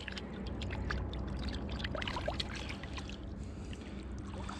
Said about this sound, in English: Rinse this off.